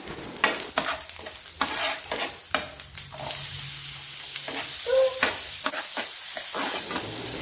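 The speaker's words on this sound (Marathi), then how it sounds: "ते मी घालून घेतलेलं आहे आणि छान असं परतून घ्यायचं आहे आपल्याला।" Ginger, garlic, onion and white sesame seeds sautéing in hot oil for a sesame chicken starter, with steady close sizzling and frequent stirring clinks and scrapes, no talk.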